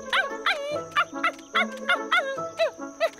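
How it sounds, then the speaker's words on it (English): A cartoon puppy barks in a quick series of high, bright yips, about eight or nine close, evenly spaced barks with short gaps between them. "It's a puppy."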